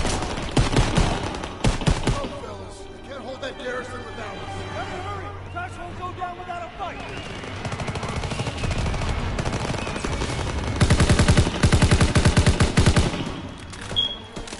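Rapid gunfire from a video game weapon during a live-streamed session, crackling in dense close bursts at the start and again near the end, with voices talking and game sound running underneath.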